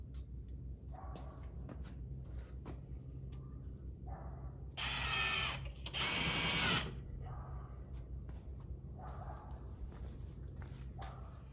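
Screws driven into a Harbor Freight square drop camper to mount a solar panel, two loud bursts of power-driver whine in the middle with faint clicks and handling noise before and after.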